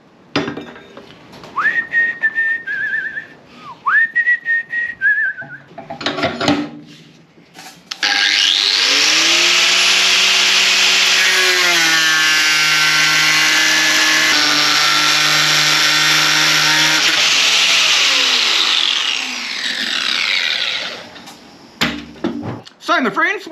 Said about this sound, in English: it cut through 1 inch thick steel with a bloody grinding disc on it